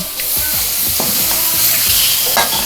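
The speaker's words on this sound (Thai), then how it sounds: "ไฟกลางๆนะคะ คั่วไปก่อนเลย" Loud, continuous sizzling of pork belly stir-frying over medium heat in a hot pan, with occasional scraping and clinks of a utensil.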